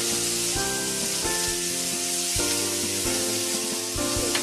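Butter sizzles in a pan while venison marsala cooks, giving a steady, close crackle throughout with a sustained tonal sound running underneath.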